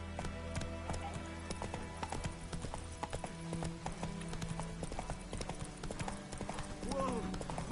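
Steady clip-clop of a horse's hooves trotting in The Witcher 3 video game, a continuous rhythmic patter layered with game ambience and a voice speaking.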